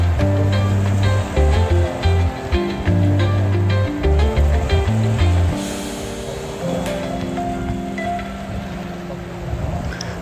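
Ocean waves wash onto a rocky beach, a steady loud surf rumble that later eases into a softer wash, with a low motor-like drone in the first half; no one speaks.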